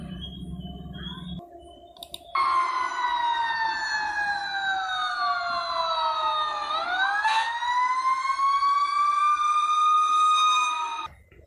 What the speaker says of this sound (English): it is a sound of a fire engine